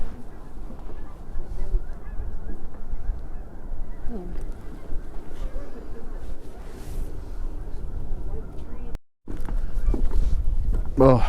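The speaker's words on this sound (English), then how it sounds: "So many geese landing now." Geese honk as a flock lands at a lake in Barr Lake State Park on a cold day, their calls steady and fairly distant beneath wind and outdoor noise.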